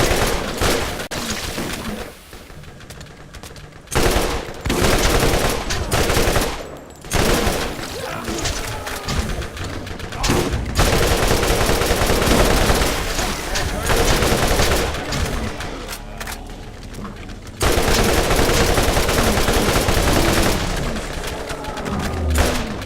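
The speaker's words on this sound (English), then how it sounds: "I'm in the mood for some Roland style machine gun action" Sustained machine gun fire from Roland in Borderlands: loud, continuous automatic bursts with brief gaps, punctuated by booms and impacts, all close and dominant throughout.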